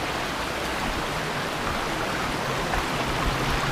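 Fast, strong mountain river current in Tacloban, Barangay Malibayo, Batangas City, a dense unbroken rushing roar heard up close with no voices.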